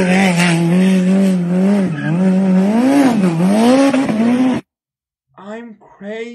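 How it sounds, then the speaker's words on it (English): A Ferrari doing donuts roars loudly with a wavering exhaust note as it revs and tires squeal, then cuts off abruptly, followed by a brief voice. "Wow, the exhaust sound, the Lamborghini or Ferrari is very nice."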